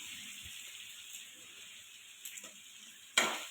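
Ginger fries with garlic in oil in a pot of chicken soup, a soft continuous sizzle with a few light stirring scrapes and a sharper clatter of utensil against pan near the end.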